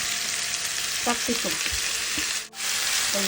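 Vegetables, including chopped green beans, sizzle and hiss steadily in a hot pan for vegetable fried rice, with a few clinks of a utensil stirring, loud and close.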